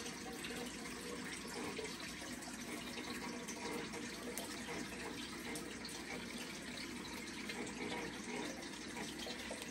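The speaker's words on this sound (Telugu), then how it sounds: "Fish tank sound, water sound ఇవి చూడండి." Water runs steadily from a fish tank in a home garden in Ohio, a continuous broadband splashing trickle that holds at an even level throughout, near and alone with no voices.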